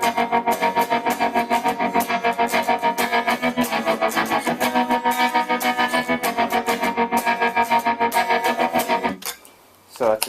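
Electric guitar played through a pedalboard with a heavy tremolo, distortion effect like the Smiths' How Soon Is Now, pulsing in rapid, rhythmic chops for about nine seconds before stopping, loud and close.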